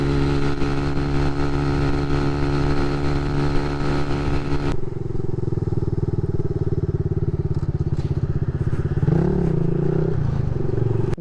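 Kawasaki Z125 Pro motorcycle engine held at full throttle on a top speed run, a loud steady buzzing drone that shifts in pitch midway and continues with a slight wavering near the end, no talking.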